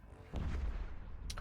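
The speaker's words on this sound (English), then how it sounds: "Ooh, big explosions." Big explosions in the space video game Eve Echoes, a deep rumbling blast that swells in and holds as a sustained low roar, with a sharper crack near the end.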